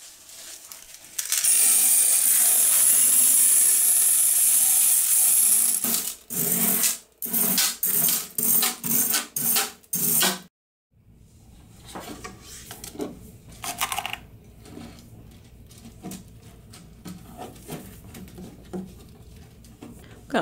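Aquarium rocks poured into a 10-gallon fish tank vivarium as a drainage layer, first a long steady rushing pour, then several short choppy pours, followed by quieter scattered clicks as the gravel settles.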